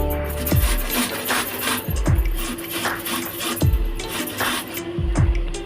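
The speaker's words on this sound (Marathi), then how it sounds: "कैरी अशी किसून घ्यायची, कांदा पण किसून घ्यायचा आहे।" Raw green mango is rubbed down a kitchen grater in four steady rasping strokes, each one ending in a soft thump, heard close up and evenly spaced.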